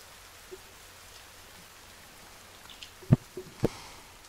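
Soft, steady rain falls in The Forest video game, a faint continuous patter with a few sharp close knocks near the end, no voices.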